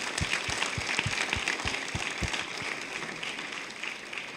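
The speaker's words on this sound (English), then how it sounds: "I think we ought to give another round of applause to all three teams." Applause for three competing teams at a humanitarian project event, a steady wash of clapping from a crowd that holds for several seconds without talk.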